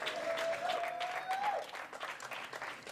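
Applause from British fans in the corner at a trap shooting mixed team final, steady clapping throughout with a commentator talking over it.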